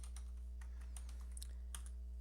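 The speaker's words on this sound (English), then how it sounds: "How you can check this is by pressing the Windows R key, typing msinfo32." Typing on a computer keyboard, a quick series of light, close key clicks over a low steady electrical hum, with no speech.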